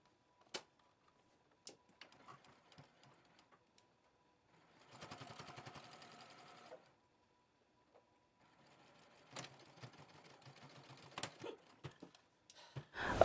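A sewing machine bastes fabric pieces for a top or tunic in short, quiet bursts of rapid stitching separated by pauses, with soft clicks of fabric handling in between.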